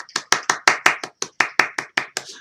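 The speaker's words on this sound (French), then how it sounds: "on les applaudit." Evenly spaced hand claps, about a dozen sharp close strikes in a steady rhythm, from people at a French improv show applauding the contestants, with no talking over them.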